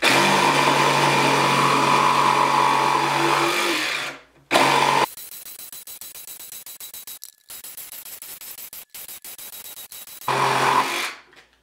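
A DeWalt cordless power tool cuts through a 2x4 with a loud, steady whine that briefly cuts out and restarts several times, as though it is slowing under load.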